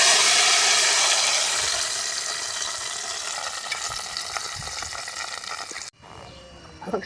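Gongura leaves hit hot oil with fried curry leaves and onion, giving a loud, broad sizzle that slowly settles into a steady frying crackle, with a brief drop and stirring noises at the end.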